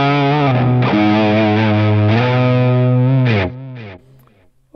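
Electric guitar lead notes played through a Headrush unit with delay, sustained distorted tones with shifting pitch that ring out and fade into audible delay repeats, loud and alone with no talking.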